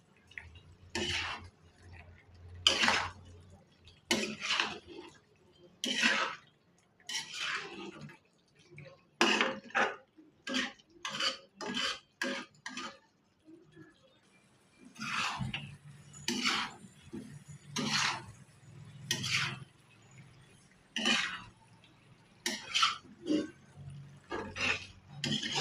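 A utensil stirs chicken fry in a pan in repeated rhythmic clinks and scrapes, close and crisp, in two long runs separated by a short pause.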